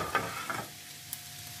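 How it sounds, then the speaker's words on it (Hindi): Chicken frying with garlic over high heat, a couple of quick stirring scrapes at the start, then a faint, steady low sizzle, close by and quiet, no talking. "चिकन हमारा फ्राई हो रहा है"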